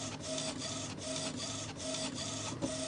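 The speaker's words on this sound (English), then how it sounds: "we go ahead and load some of this transfer paper into the printer" An inkjet-style printer feeding and printing onto iron-on transfer paper, a steady mechanical whir with rhythmic print-head passes about every three-quarters of a second, close and continuous with no talking.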